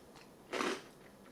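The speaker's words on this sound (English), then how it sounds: "A big crunch when you crack in, and then the peanut buttery flavour in the middle." One loud, close crunch as hot and spicy cracker nuts are bitten, a short sharp burst with faint chewing before and after and no talk.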